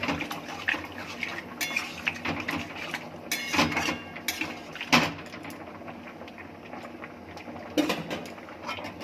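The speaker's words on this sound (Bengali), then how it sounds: "এবারে জল দিয়ে দেবো।" Water goes into a pot of boiled taro curry, with repeated metal clinks and scrapes of utensils against the pot and a light splashing, close and uneven, with no voices.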